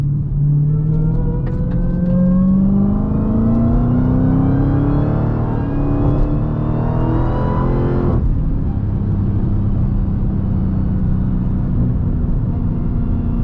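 A Dodge Challenger SRT Demon accelerates hard, its loud engine roar climbing steadily in pitch before a sharp gear change drops the revs and the drone continues.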